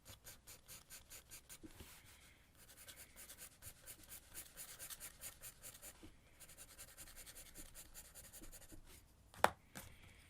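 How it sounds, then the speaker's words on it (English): Pencil drawing on paper being worked over with an eraser and pencil, a steady run of soft, close scratchy rubbing strokes in quick rhythm, with one sharp brief tap near the end. "Maybe erase a little bit to give it a little bit of a hierarchy."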